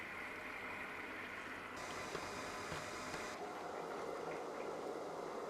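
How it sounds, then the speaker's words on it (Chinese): A large chicken leg deep-fries slowly in oil over low heat, giving a continuous, even sizzling hiss with no pauses and no voices. "那个要小火慢慢给它炸熟了的，那么大的腿的嘛"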